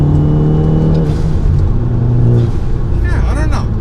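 A tuned Fiat 500 Abarth turbo hatchback drives along with a steady engine rumble and road noise, swelling briefly as it revs, while a person talks over it.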